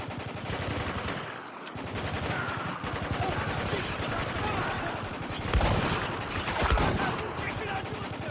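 Sustained automatic gunfire and scattered shots from Spec Ops: The Line on PS3, a steady loud rattle with heavier bursts near the end, game voices shouting faintly beneath.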